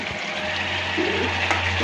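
Baim fish (eel-like) going into hot oil with spices in a pan for a potato curry, giving a steady close sizzle and frying crackle with a low hum underneath and no talk.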